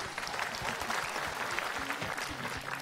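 Audience applause for Ustadz Maulana at an Islamic religious gathering, a dense steady patter of many hands clapping close by for about three seconds with no voices.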